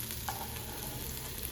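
Rohu fish fries in a pan at home, a faint continuous sizzle and crackle of hot oil with no voices.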